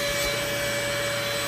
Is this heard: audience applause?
no